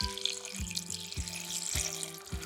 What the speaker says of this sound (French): Ensuite, je viens verser tout simplement de l'eau.